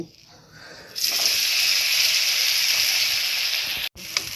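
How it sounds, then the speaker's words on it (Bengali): Boiled lentils poured into a wok of hot oil over a low flame, a sudden loud hissing gush that starts after a quiet moment, holds steadily, cuts off briefly and resumes. "এবারে ডাল সিদ্ধটা দেব।"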